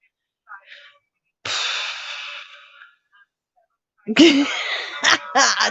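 A sharp sneeze bursts out after a soft intake, followed moments later by another quick sneeze-like burst and breathy sounds.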